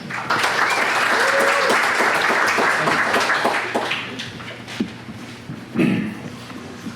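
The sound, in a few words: applause for a speaker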